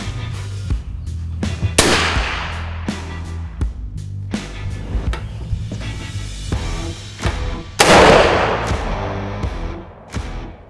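A suppressed Mossberg Patriot 6.5 Creedmoor hunting rifle fires outdoors, producing loud, sharp cracks at irregular intervals. Some shots are followed by echoing, rumbling decay.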